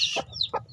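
Hens and chicks in a breeding cage, two short clucks from a hen close by with thin high chick peeps over them.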